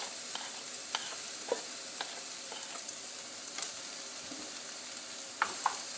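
Finely diced onions fry steadily in oil in a pan, a continuous bright crackling sizzle with occasional louder pops and the scrape of stirring, no voices.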